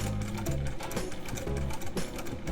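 A sewing machine with a Juki binding presser foot running at a fast steady rhythm as it stitches bias binding, a loud close mechanical whir with brief slowdowns.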